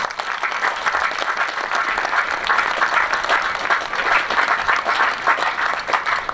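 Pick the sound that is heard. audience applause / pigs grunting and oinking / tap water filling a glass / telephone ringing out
audience applause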